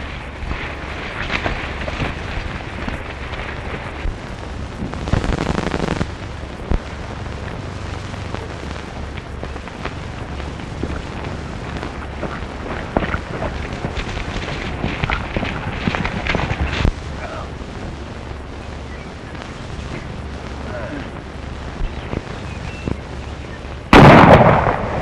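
A volley of gunfire in a 1935 western film, with sharp old-fashioned rifle and pistol shots cracking and booming amid rough background noise, and a heavy burst right at the end.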